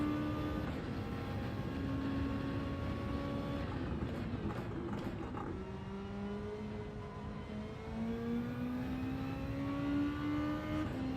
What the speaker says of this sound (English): I like the sound that this car makes. I love the rumble as you brake.